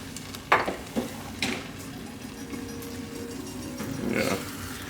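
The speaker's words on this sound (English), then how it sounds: "Alright, and then we're gonna stir it back up." A spoon stirs rice and chicken broth risotto in a pot, giving a few close scraping strokes near the start and a softer scrape toward the end, with a low steady background hum in between.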